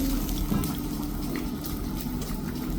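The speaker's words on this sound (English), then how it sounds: "those bubbles we're getting right now, this is the ice block we have in the channel, very quickly turning into steam and escaping through our lava" Molten lava in a channel at an indoor lava show in Iceland bubbles and hisses steadily as an ice block turns rapidly to steam, a continuous dense seething with small pops throughout.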